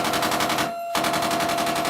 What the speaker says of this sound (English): Gunshot, breaking glass.